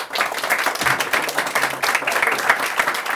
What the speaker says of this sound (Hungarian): szeretnék kérni egy nagy tapsot